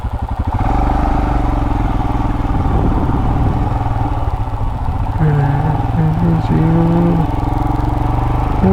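A motorcycle engine idles and rumbles steadily up close while the bike is being parked at the Longewala border post in Rajasthan, a loud, continuous low drone with some clattering mechanical noise.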